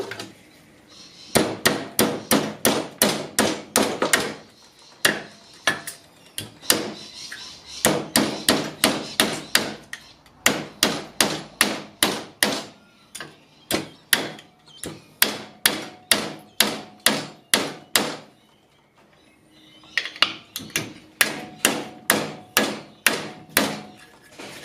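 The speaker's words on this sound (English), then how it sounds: "stick it on there and hit it with a hammer and make it curved" Repeated hammer blows on a metal pipe being bent into a curve for a cold air intake bracket, struck in fast, even bursts of about a dozen sharp ringing hits with short pauses between runs, loud and close.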